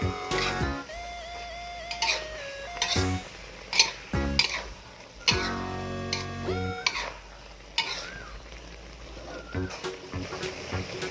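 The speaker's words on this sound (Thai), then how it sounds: "ผัดไปจนใกล้ ๆ สุกนะคะ แล้วก็ใส่ไข่ ใส่ไข่ลงไปเลย" Luffa and egg stir-fried with holy basil in a home kitchen pan: a spatula scrapes and clatters against the pan in irregular bursts, with sizzling underneath and music playing along.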